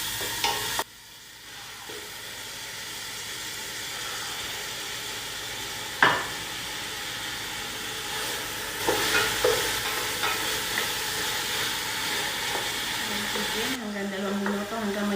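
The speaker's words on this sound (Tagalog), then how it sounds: "igigisa ko ng ang sibuyas ng konting brown at i-add ko na yung chicken hanggang maging white ang kulay niya" Onion and chicken sautéing in a pan for kabsa: a steady close sizzle with occasional stirring scrapes and utensil clinks, and a voice talking over it.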